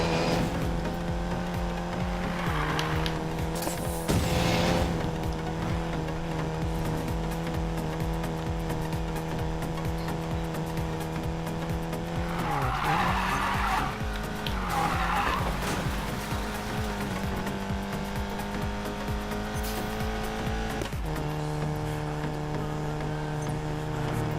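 Golf 7 GTI drifting in the racing game Need for Speed Payback, a steady engine drone under continuous tire skidding and squeal throughout, with revs dipping and surging at a few points.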